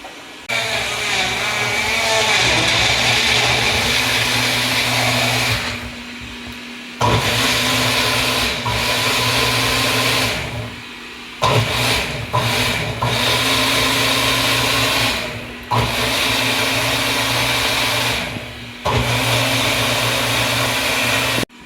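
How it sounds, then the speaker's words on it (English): A blender whirs loudly in several bursts, blending toasted cumin into apple juice, with short pauses between pulses and a steady motor drone throughout. "and then we are going to give it a quick blend"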